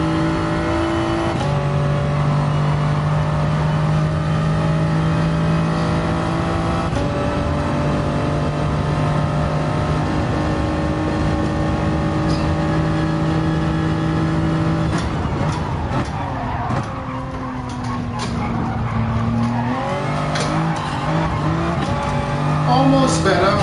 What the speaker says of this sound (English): Been driving too many Audis at this track.